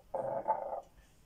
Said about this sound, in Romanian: Ce căței frumoși aveți.